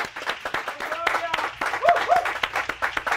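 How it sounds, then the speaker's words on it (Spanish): A studio audience on a Latino morning TV show claps, scattered irregular hand claps running under a host's speech throughout. "Así que hoy vamos a recibirlo también con un fuerte aplauso, muchachos."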